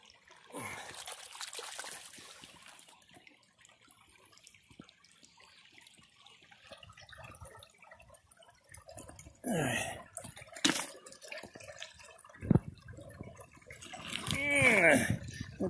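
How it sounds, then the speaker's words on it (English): Water splashes and trickles while a fossil rock is rinsed off outdoors, with scattered handling knocks and brief spatters through the clip. "Let me wash that off."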